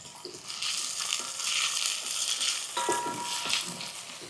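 Finely chopped large tomato sizzles in a pan as it softens, a steady bright frying hiss with occasional stirring scrapes, close and fairly loud, no voices.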